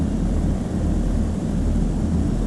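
An airliner touches down on a runway in the Flight Sim World video game, giving a steady, deep rumbling engine roar with a low droning hum that holds constant throughout, with no talk over it.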